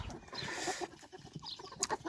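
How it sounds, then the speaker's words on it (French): Hens and a rooster cluck close by, short overlapping calls in an uneven chatter. "là c'est une des 3 poulettes que je vais garder"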